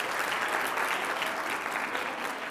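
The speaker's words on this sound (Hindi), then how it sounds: "बहुत सारी तालियां" Dense, steady applause from an audience filling the whole stretch at even loudness, a broad continuous wash of many hands clapping at a hospital event in Rawalpindi.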